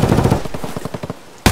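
A rapid automatic gunfire burst from the video game Escape from Tarkov rattles off a quick string of close, loud shots that tail off, and a final sharp blast cuts in at the end.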